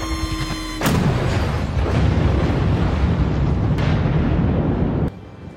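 In a film, a helicopter is destroyed by a big explosion: a sudden blast cuts through a quiet tonal hum and swells into a loud, sustained roar lasting several seconds before stopping abruptly.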